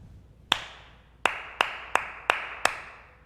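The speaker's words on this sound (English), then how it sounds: "every time you hear Goldilocks' name in the story, we're going to clap this rhythm" Six sharp hand claps ring out in a rhythmic pattern, a single clap followed after a pause by five quick, evenly spaced ones, close and clear with no talk.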